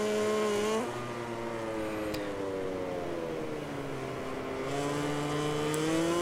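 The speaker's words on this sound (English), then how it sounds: "Need some performance from the engine, please." Racing motorcycle engine in MotoGP 2020, a loud, high-pitched whine that climbs through gears, drops as it shifts, then rises again, sustained and close with no talk.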